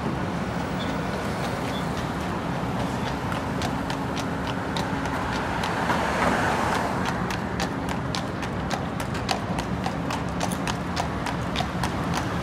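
Horse hooves clip-clopping steadily on a city street near Toronto's Exhibition Place, a regular close rhythm of hard strikes over constant traffic and street noise, with no talk.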